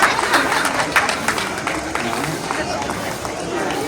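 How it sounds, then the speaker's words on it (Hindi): Loud, sustained applause from a crowd at an award presentation during a foundation rally in Nainital, dense clapping filling the whole moment with voices mixed in underneath. "बहुत जोरदार तालियां बजती रहनी चाहिए बेटा"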